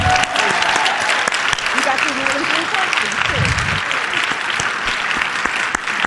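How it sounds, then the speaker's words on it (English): An audience at a conversation event breaks into sustained applause, a thick, even wash of clapping running start to finish, with some voices mixed in beneath it. "Let's give a round of applause, please."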